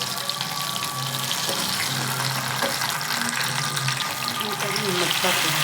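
Bangude mackerel fish frying in a pan makes a loud, steady, dense sizzle that fills the whole stretch, with a voice speaking over it.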